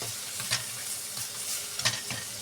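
Tomatoes fry in a hot pan with a constant, close sizzle while a spoon stirs them, making a few sharp scraping clicks.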